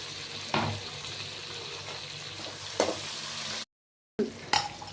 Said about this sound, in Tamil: ஓகே, அதை போட்டு கொஞ்சம் நல்லா வணக்கிக்கலாம்.